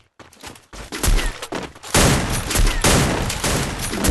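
Dense gunfire in a mobile shooter game as a sniper is used, a close, loud volley of overlapping shots and blasts that builds into a continuous roar of fire.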